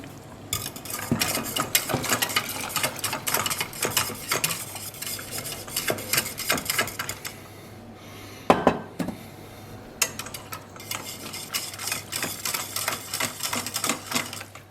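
Rapid metallic clicking and scraping of a whisk against a pot as flour mixture is whisked into boiling broth for gravy, quick and steady, briefly pausing midway before resuming.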